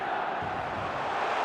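Stadium crowd in eFootball at an AC Milan match, a dense, loud, steady roar of many voices cheering and chanting with no break.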